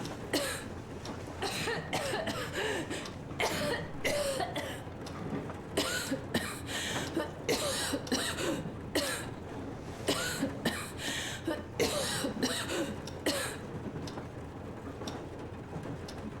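A female character in Metro Exodus coughs repeatedly, bursts of short hacking coughs scattered through a long stretch over a low steady background of wind and rain.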